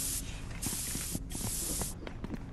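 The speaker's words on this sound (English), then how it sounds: "I'll use this yellow spray now" Yellow spray in a video game sprays in a steady, loud hiss with a brief break in the middle, mixed with faint mechanical clicks.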